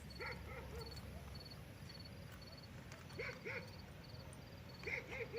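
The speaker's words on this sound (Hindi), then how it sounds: "कुत्ते भौंक रहे हैं दूर" Several dogs bark and yip far off outdoors, faint and intermittent over a hissing background, in short clusters spread across the stretch.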